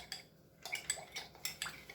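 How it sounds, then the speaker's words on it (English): A spoon clinking against a small bowl or cup while cornstarch and water are stirred together, in short light taps and scrapes at a quick irregular rhythm, close and quiet. "So now I'm going to take 2 teaspoons of cornstarch and 1/4 cup of water. I'm going to stir that together."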